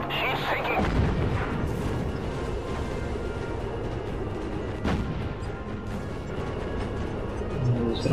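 Combat in the video game Battlestations Pacific, with deep booming blasts and rumbling impacts, one sharp explosion from the coast standing out midway, under a dense layer of naval battle noise.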